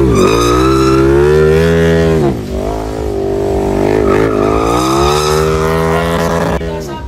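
A Ducati big-bike motorcycle engine revs loudly and continuously, its pitch rising and falling in smooth surges over several seconds, close up with no talk.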